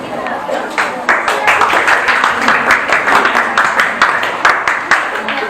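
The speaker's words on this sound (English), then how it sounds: "Let us give our speakers a round of applause." Steady applause from a crowd at a class debate, with many hands clapping at once, fairly loud and filling the room without pause.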